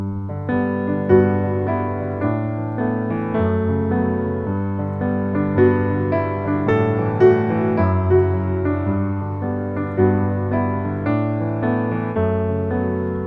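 A solo piano plays a steady passage of chords and melody from a song at moderate loudness, notes ringing clearly without any voices.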